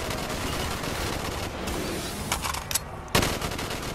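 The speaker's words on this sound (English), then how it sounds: "Dude, this gun just shreds." Rapid video game gunfire from a wall-buy weapon, a dense, continuous automatic stream of shots that stays loud throughout with a few sharper bursts near the end.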